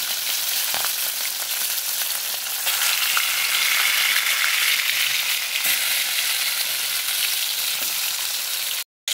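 Fish frying in hot oil in a kadai: a loud, close, continuous crackling sizzle that stays steady throughout, with faint clinks now and then before a brief cut at the very end.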